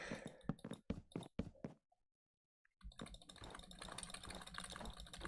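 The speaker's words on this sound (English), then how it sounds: "Not only until I stop talking do I realize how loud the mouse and keyboard probably is." A computer mouse and keyboard click rapidly during a survival base-building game, a run of sharp close taps, then a pause, then softer dense clicking under a low hum.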